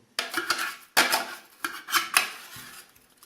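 A spoon scrapes and scoops crushed ice made from frozen tap water, giving four or five sharp crunchy, clinking scrapes spaced about half a second apart, close up and with no talking.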